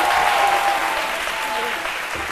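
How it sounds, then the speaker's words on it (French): Studio audience clapping loudly and evenly, a full wash of many hands that holds steady from start to finish with no voices on top. "Applaudissez encore pour vous."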